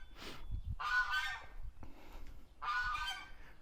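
A goose honks a few times nearby in an orchard in spring, harsh nasal calls in two main bursts over quiet outdoor background.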